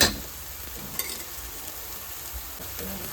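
Masala stirred and frying in oil in a pan, a steady close sizzle with soft scraping stirs and a couple of light utensil knocks, no talking.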